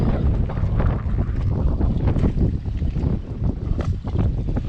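Strong 30-knot wind buffets the microphone in a rough, tightly packed harbor among anchored sailboats, with loud continuous gusting rumble and flapping throughout.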